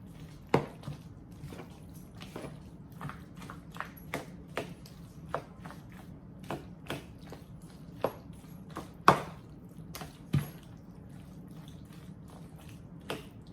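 Sour cream being stirred into baked macaroni and cheese with a utensil, giving quiet, irregular clicks and soft squishy taps against the dish over a low steady background.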